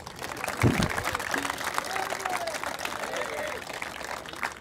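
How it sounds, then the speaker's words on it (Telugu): Thin, scattered clapping from an audience at a wedding garlanding ceremony, steady and modest in volume, mixed with crowd murmur and a voice speaking over it. "మీ చప్పట్లు చప్పగా ఉన్నాయి"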